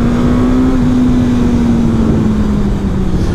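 Suzuki GSX-S 1000 World Edition motorcycle under way, a loud, steady engine drone with exhaust note that eases slightly in pitch toward the end, wind roar underneath, no talking.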